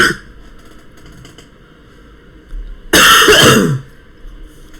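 One loud, harsh, lingering cough after an illness, up close, preceded by a quieter throat noise and faint clicking, then silence.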